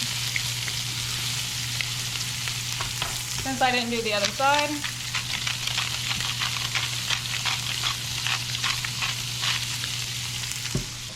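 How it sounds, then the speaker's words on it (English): Almaco jack fillet frying in butter in a pan at sea, a steady close sizzle with crackling spatter that runs under a brief spoken remark. "See that nice brown sizzle there?"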